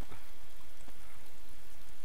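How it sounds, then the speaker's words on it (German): Steady rainfall in a video game, a constant soft hiss of falling drops that fills the whole clip with no talking. "Mach jemand den Regen weg"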